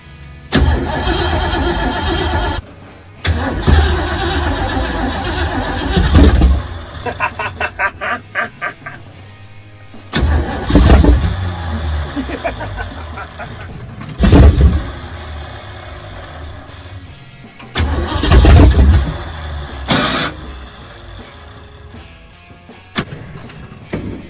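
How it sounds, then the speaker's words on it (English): A car engine cranking and catching after the fuel system is primed with a little gas, several bursts of loud churning and revving separated by pauses, close and with no talk over it. "we prime the system with a little gas. See if she'll start."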